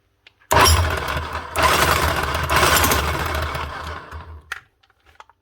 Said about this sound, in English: One big Bosch GSH27 Breaker. Up and running again with just a new switch.